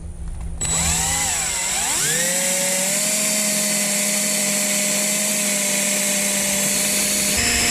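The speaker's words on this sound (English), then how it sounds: "It's good to use a drill bit that's just a tiny bit smaller than your screw, just so you don't split the dowel" Power drill boring into a wooden dowel: the motor spins up with a rising whine, then holds a steady, loud, close drone for several seconds before stopping.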